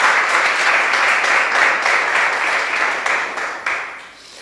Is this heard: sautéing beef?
no